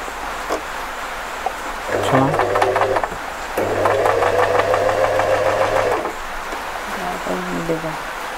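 A Singer FM 2250 sewing machine running a straight stitch, its rapid mechanical needle chatter and motor hum starting and stopping in two longer runs, close and fairly loud, with a person speaking briefly between runs.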